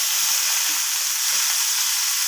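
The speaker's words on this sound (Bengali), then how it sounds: "এবারও আমি আদা আর লবণটাকে একটু নাড়াচাড়া করে নেব।" Ginger and salt are stirred in a hot pan for a vegetarian soybean dish, giving a steady, even hiss of frying that holds close and constant with no voices.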